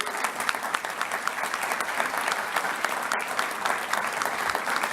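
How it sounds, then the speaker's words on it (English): Dense, sustained applause from an audience at a broadcasters' hall of fame ceremony, many hands clapping evenly and loudly throughout with no break. "could I have a round of applause?"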